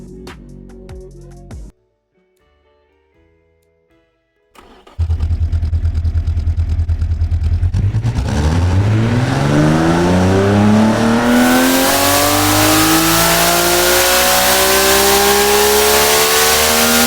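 A 2500 hp inline-six engine starts and climbs through a long, rising rev toward 10,000 RPM, very loud and close, its sweeping whine building and holding at a screaming top end after a few quiet seconds.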